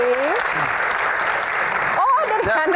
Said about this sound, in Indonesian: tepuk tangan dong buat Mbak Afiliani